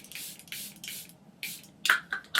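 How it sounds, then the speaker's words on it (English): Charlotte Tilbury setting spray spritzed onto a face in several short hissing bursts, evenly spaced and close, with faint handling sounds and no talk. "I'm just going to go in with Brush Setting Spray by Charlotte Tilbury"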